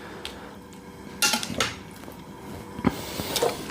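Raw pork dropped into a dry cooking pot for pulled BBQ pork, giving a few sharp metallic clanks and knocks of meat and pot against the metal, with quieter handling sounds between, close up and without talk.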